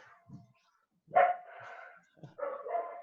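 A dog barks and yips a few times nearby, short whining barks with brief pauses between them, fairly quiet overall.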